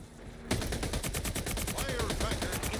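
Firecracker going off in a multiplayer video game, a sudden sharp onset followed by a rapid rattling string of loud pops and crackles that continues steadily to the end.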